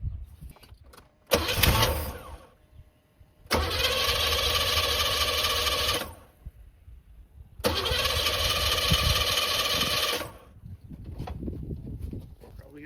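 A Chevy truck fitted with a knockoff Edelbrock carburetor cranks and catches in three loud bursts separated by pauses, then settles toward a rougher idle, close up with no talking.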